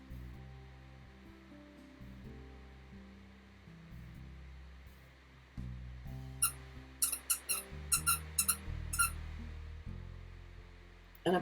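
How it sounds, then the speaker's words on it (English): A pet dog's squeaky toy squeaks in a quick burst of sharp, high squeaks partway through, over a quiet background of soft music. "I thought I took away the squeaky toy from Puppy, but she went and got it again"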